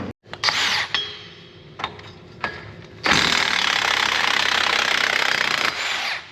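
A Snap-on power tool breaks apart parts of a broken bulldozer undercarriage. It opens with short bursts and clanks, then settles into a loud, sustained close-up whir of several seconds, with no talking.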